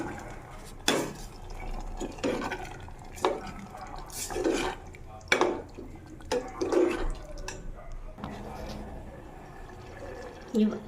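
Water splashes and pours in short bursts as the sides of a pot of cowpea dal are rinsed, with clinks of metal, under a speaking voice.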